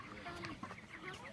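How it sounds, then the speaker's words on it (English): Broiler chickens clucking softly in a movable pasture pen, several birds making short overlapping clucks and murmurs, faint and nearby outdoors. "The chickens put down their own manure all by themselves"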